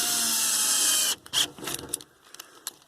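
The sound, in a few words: power drill driving square-drive Robertson screws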